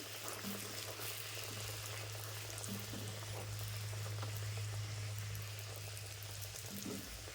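Wheat flour puri frying in hot oil, a steady bubbling sizzle that stays even and moderately close throughout, with a low constant hum underneath and no talking.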